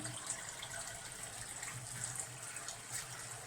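Water pours steadily into a stingray aquarium, a soft continuous splashing and gushing that holds at an even, fairly quiet level throughout with no voices.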